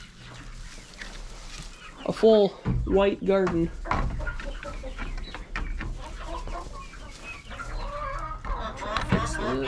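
Hens cluck and squawk close by in a backyard garden coop, bursts of bird calls rising and falling while a person talks over them.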